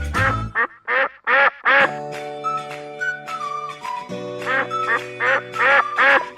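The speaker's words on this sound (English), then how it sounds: "duck," A domestic duck quacks repeatedly in loud, close bursts, with a quick cluster at the start and another run near the end, and a sustained musical tone running through the middle.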